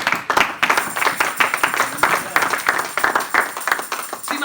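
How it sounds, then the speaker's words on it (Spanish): A church congregation breaks into loud, sustained applause for the Lord after a sermon, dense rapid hand clapping from many people filling the room for several seconds, steady and close, with no speech over it. "Denle fuerte aplauso al Señor."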